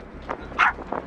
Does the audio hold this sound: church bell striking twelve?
no